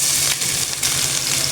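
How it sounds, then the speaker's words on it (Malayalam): Onions hit hot coconut oil in a pan and sizzle loudly and steadily, a close, continuous crackling hiss with faint stirring. "ഇനി സവാള എല്ലാം ഇതിനകത്തേക്ക് ഇടാം"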